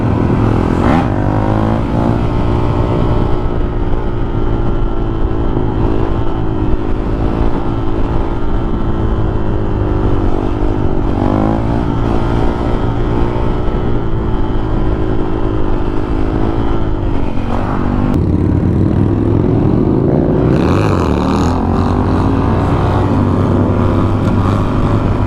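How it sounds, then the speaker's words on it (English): A 450 supermoto motorcycle ridden on a street, its engine loud and close throughout with a continuous roar, rising and falling revs, and a sharper throttle burst near the end. "to see if Scott can bring that front end of that bike up"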